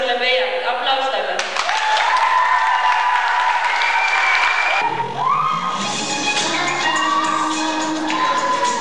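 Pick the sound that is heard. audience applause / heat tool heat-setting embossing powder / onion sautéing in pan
audience applause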